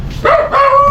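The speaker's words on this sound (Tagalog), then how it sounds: "may aso dito." A dog gives two short, tonal barks or yelps close by, the second longer and held, with no talking over them.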